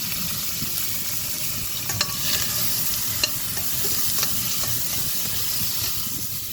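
Onion, curry leaves and crushed ginger and garlic sizzle and fry in a pan, a steady close crackle broken by occasional light scrapes of stirring.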